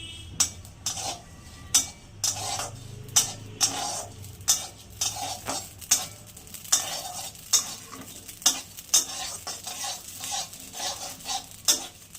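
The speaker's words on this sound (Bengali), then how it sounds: "কাজু বাদাম কটা, চিনে বাদাম কটা, এটা ভেজে নেব" Cashews and peanuts fry and get stirred in a pan, with a spoon scraping in quick, fairly regular strokes over a soft, steady sizzle and occasional metallic clinks.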